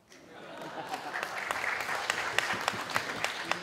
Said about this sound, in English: Clap lah.